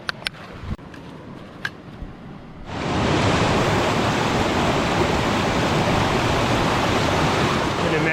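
A river braid in New Zealand wilderness rushes loudly and steadily after a few seconds of quieter ambience with scattered clicks and knocks, then holds as a constant close roar of fast water.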